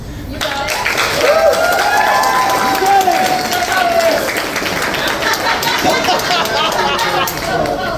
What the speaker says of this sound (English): So if we all could give these dedicated, hard-working students their due applause.